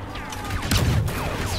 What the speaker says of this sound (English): they're shooting at me from the sky